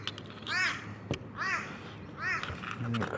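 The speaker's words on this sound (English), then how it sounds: "And the crow today, crowing his heart out." A crow caws outdoors three times at a steady pace, each harsh call loud and fairly close over a quiet background.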